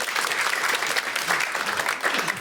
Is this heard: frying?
no